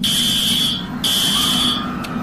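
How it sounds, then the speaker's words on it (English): School lockdown alarm sounding as a sound effect: a loud, shrill electronic tone held for about a second, a brief break, then a second long blast, close and alone. "The lockdown alarm rang."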